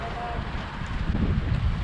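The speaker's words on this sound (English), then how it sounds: "The wind is strong." Strong wind gusting across open water at a radio-controlled IOM sailing regatta on the lake at Belgirate, a steady broadband rush with low buffeting that swells toward the end, no clear talk over it.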